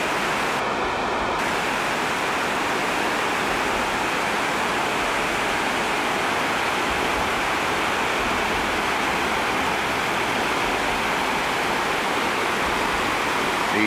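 Whitewater rapids on the Chilliwack River, about 10 kilometers outside Chilliwack, roar as a loud, steady, unbroken rush of water that fills the whole clip with no voices.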